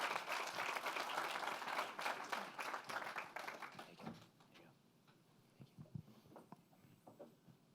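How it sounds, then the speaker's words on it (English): Audience applause at a 2019 summit conference session on real estate and construction, a dense burst of clapping that fills the room for about four seconds, then thins to scattered claps and faint murmuring. "can we please get a round of applause for Stanley Black & Decker and Wesco"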